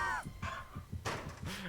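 Crows cawing in the Dead by Daylight video game, with a few harsh, raspy caws spaced out over a couple of seconds, fairly close and with no talking.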